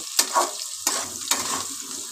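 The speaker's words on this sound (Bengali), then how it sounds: "এবার আমি পেঁয়াজের সঙ্গে একসঙ্গে আলুগুলোকে ভাজা ভাজা করে নেব" A steady sizzle of potatoes and onions frying in a pan, punctuated by three scraping stirs of a spatula, with no voices.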